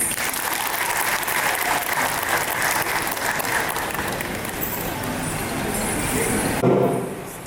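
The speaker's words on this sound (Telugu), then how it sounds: "వాళ్ళ కోసం ప్లీజ్ ఇంకొకసారి క్లాప్స్" Sustained audience applause follows a dance performance at a charitable trust's first anniversary event, a dense steady clapping that holds for several seconds before easing off.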